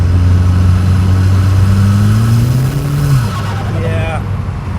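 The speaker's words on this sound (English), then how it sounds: "Let me just give it some gas here." A car with a big-turbo 1.8T engine and a slipping clutch revs up close and loud, its pitch climbing steadily, then drops back toward idle.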